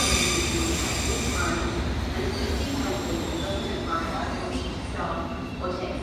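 A London Underground Circle line train rides along with a steady rumbling roar and faint squealing wheels, loud and continuous throughout, with some indistinct voices mixed in.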